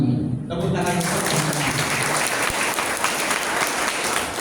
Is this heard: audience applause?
yes